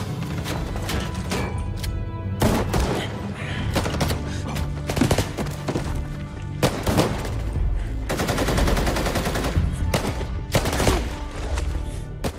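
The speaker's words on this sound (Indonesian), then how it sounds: "Sangat disayangkan tembakan demi tembakan yang dilepaskan oleh anak buah Carlos menewaskan sang sheriff." Repeated gunfire from a sheriff shootout in a film, dense bursts of loud shots cracking across the whole stretch, some in rapid machine-gun-like runs, over a continuous action soundtrack.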